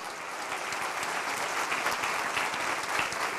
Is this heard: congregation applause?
yes